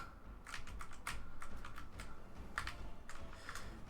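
Computer keyboard keys pressed repeatedly during a video game, a steady run of close, crisp clicks and taps in irregular bursts with no talking.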